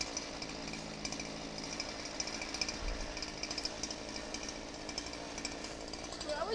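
A chainsaw cuts a tree at a distance, a faint, continuous buzzing rattle under a person talking quietly nearby.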